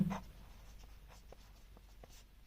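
Pen or pencil scratching on notebook paper while solving a class 6 geometry problem on vertically opposite angles, faint, close strokes in short repeated bursts with no talk.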